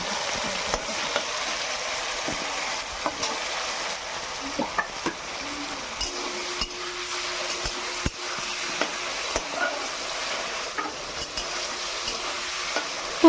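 Cabbage and potato stir-fried in a wok for chowmein, a steady sizzle with frequent scraping and clinking spatula strokes throughout, fairly close and with no voices.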